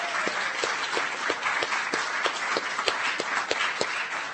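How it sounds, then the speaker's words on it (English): An audience gives a round of applause for young Coast Guard men and women: dense, steady clapping with a few sharper individual claps standing out, sustained for several seconds without a break. "another round of applause for these amazing young men and women"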